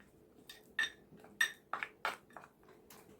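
Spoon scraping and clinking against a bowl while face pack powder is stirred with curd, several sharp close taps in an uneven rhythm with no talk.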